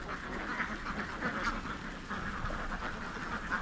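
Dense, continuous quacking from a large flock of farmed ducks at Karuvatta, Kerala, many birds calling at once in an unbroken chorus at moderate loudness.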